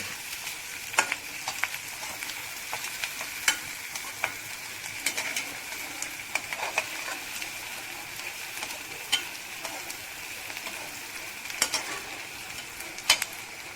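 Onions and broken dried chillies fry in oil in a pan for Pallipalayam chicken, a steady crackling sizzle with sharp pops and spatula scrapes, while pigeons coo faintly in the background.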